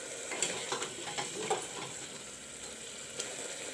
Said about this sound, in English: Now I will brown the masalas.